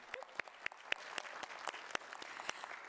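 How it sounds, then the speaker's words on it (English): Scattered applause from an audience at a school board meeting, individual claps sharp and distinct, moderately close, a small group clapping briefly with no talk over it. "Let's just clap for that."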